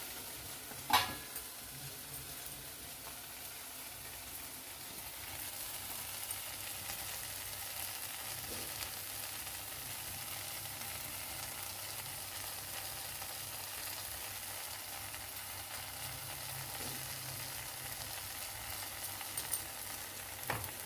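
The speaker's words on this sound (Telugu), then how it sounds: "శనగపిండి వేసి బాగా వేపుకున్నా." Gram flour frying in a pan over cooked-down onion and tomato, with a steady low sizzle and soft scraping of a spoon as it is stirred. The sound stays even and quiet throughout, with no voices.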